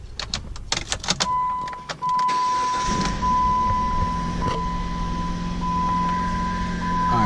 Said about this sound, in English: Let's hit the key and crank it up.